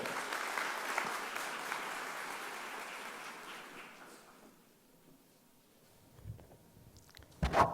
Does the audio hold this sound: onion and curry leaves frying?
no